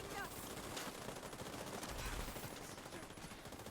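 Rapid SMG gunfire in The Division 2 rattles continuously across the whole stretch, mixed with other in-game gunshots and battle noise at a steady, fairly loud level.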